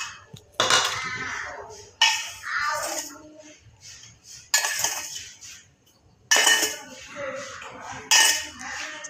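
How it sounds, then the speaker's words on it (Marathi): A spoon clinks and scrapes against a bowl while sugar is stirred into two spoonfuls of yogurt, coming in several short bursts with quiet gaps between, close and fairly loud. "2 चमचा दही घेतलेले आहे आणि ह्याच्यात आता मी साखर मिक्स करते."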